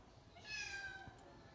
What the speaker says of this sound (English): And that's our cat.